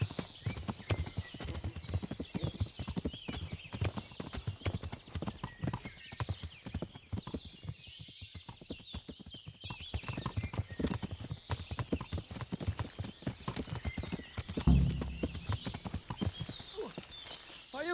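Steady clip-clop of horse hooves trotting along throughout in the game Kingdom Come: Deliverance, with a brief whinny or bump near the end and faint ambient game sounds underneath.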